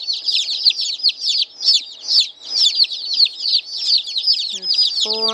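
Yellow chicks peep close by in a dense, continuous stream of high, rapid cheeps, with a brief low voiced sound near the end.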